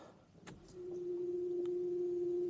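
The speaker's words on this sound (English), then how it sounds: "I hear a fuel pump." Steady electric whine from the fuel pump of a long-abandoned 1985 Jaguar XJS priming with the ignition on, holding one continuous tone for about two seconds after a couple of faint clicks, close and fairly clear.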